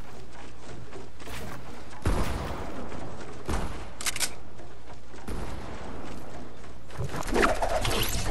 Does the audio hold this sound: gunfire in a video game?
yes